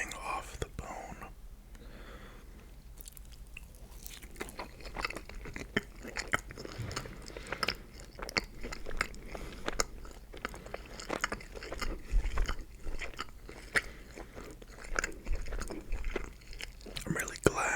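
Someone eats tender Swiss Chalet honey garlic ribs right at the microphone, with soft wet chewing, small crunches and lip smacks, broken by quiet whispering.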